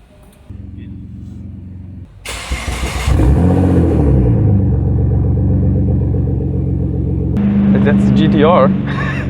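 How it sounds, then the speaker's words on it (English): A Nissan GT-R's HKS aftermarket exhaust revs and rumbles loudly, the engine note rising and falling with a steady throaty drone, with speech over it near the end. "HKS exhaust, doing its thing"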